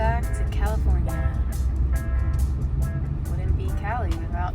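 Busy road traffic in San Diego, California: a steady low rumble of cars with repeated passing swishes and some tonal whines, with voices talking over it throughout.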